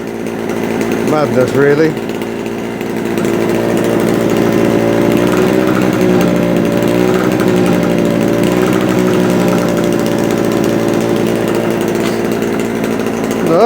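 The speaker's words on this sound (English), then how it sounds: "I think I bought all that just so we could hear it run again." Small two-stroke generator engine running steadily, close and loud with a constant buzzing drone for the whole stretch, and someone speaks briefly near the start over it.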